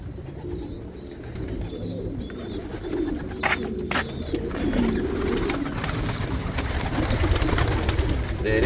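Racing pigeons in a loft cooing in soft, repeated low rolling calls, several birds close by, with wing flutters and rustling throughout.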